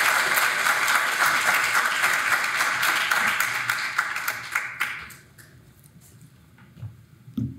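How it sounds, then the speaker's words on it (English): Sustained audience applause at a symposium on living things, greeting a farmer and speaker. Dense clapping runs steadily for about five seconds, then tapers off sharply, leaving a quiet room with a few soft scattered sounds. "can we have another round of applause for our first speaker, Leah Penniman?"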